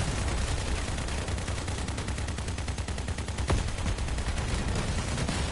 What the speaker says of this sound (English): The massive mammoth cannon.